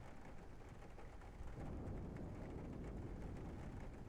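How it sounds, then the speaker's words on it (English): Rain and rolling thunder in Kerbal Space Program during a desert storm, a faint steady wash of rain with a low rumble that grows heavier partway through. "Yeah, listen to that thunder."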